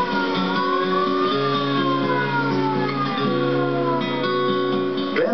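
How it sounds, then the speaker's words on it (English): A wartime Jeep's siren wails as it drives up and down a town's streets, a loud, close, continuous rising and falling tone with steady engine-like rumble beneath. "And he drives up and down the town with the siren going."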